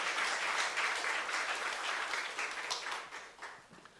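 A church youth-service congregation applauding after a sermon, a broad steady rush of many clapping hands held at an even level for several seconds before tapering off toward the end, no speech over it.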